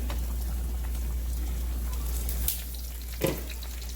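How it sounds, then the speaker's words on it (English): Chicken stew simmering in gravy on a low fire, giving a soft, steady sizzle and faint bubbling hiss over a low hum, with a couple of brief clicks near the end. "The chicken will continue to simmer and make a gravy."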